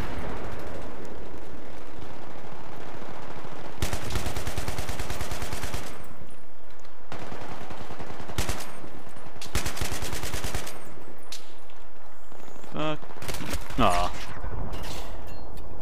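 Battlefield 3 LMG light machine gun fire in sustained loud bursts, several long sprays broken by short pauses, with other game sounds between and faint talk underneath.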